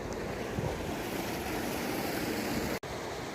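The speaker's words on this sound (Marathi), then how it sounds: "आज बघा आता हे पाणी भरपूर चाललेलं आहे" Water runs abundantly through an irrigation channel in an onion field, a steady broadband rush that stays loud and constant throughout, with no voices.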